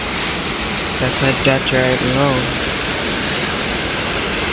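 A river waterfall in St. Mary, Jamaica roars as a steady, close wall of rushing water while someone speaks briefly over it.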